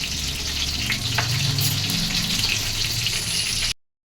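Eggplant frying in a pan makes a continuous, close, fairly loud sizzle that holds steady alone before cutting off abruptly near the end.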